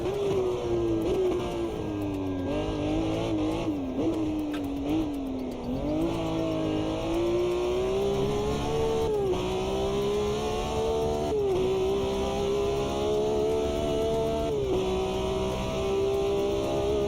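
An R25 race car in AMS2 at the Hungaroring holds a loud, steady engine note throughout, rising and dipping with gear changes and throttle lifts under braking, up close and alone without talk.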